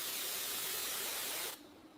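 Rust remover sprayed from a can onto an old rusty lock, a steady close broadband hiss for about a second and a half that cuts off abruptly, leaving near silence.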